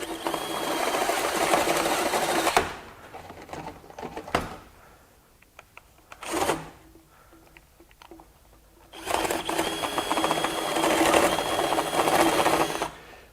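A Ryobi HP One+ 3/8-inch right angle drill boring with a 1 1/2-inch spade bit, a close steady whirring grind in two long bursts separated by a quieter pause with clicks and handling noises.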